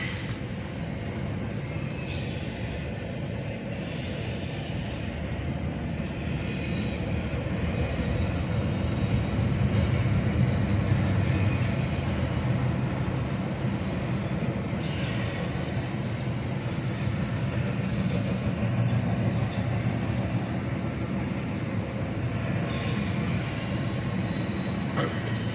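A long double-stack CSX freight train rolls steadily past, its wheels clattering and rumbling continuously with occasional faint metallic squeals, no voices.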